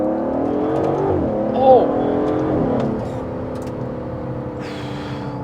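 Aston Martin DBS Superleggera V12 pulling hard in fourth gear, a steady, loud engine drone rising in pitch through the clip, with a brief exclamation from a voice partway through.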